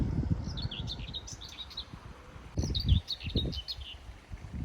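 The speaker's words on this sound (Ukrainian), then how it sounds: "Тут десь так гарно пташечка тільки що співала." A small bird sings outdoors in two bursts of quick, bright chirping phrases, moderately distant, over low rustling and handling noise close by.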